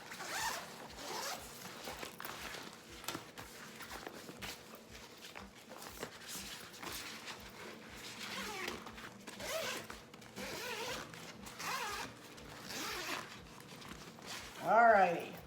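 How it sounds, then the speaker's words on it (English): A zipper being opened on a packing bag, a series of quick, close rasping pulls with soft handling noises, with a faint voice briefly in the background. "Let me unzip."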